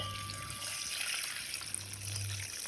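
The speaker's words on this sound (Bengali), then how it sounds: "বেশ খানিকটা পরিমাণে আমি জল দিয়ে দিলাম।" Water pours steadily into a container of homemade natural shampoo ingredients, a continuous close splashing hiss with no talking.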